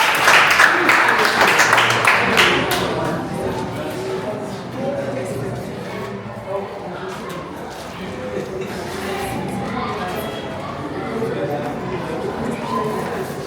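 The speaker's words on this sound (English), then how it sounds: "Oh, clap for her." An audience at a dream-job workshop in Nigeria claps for a student, a brief round of applause at the start that gives way to crowd chatter and talking.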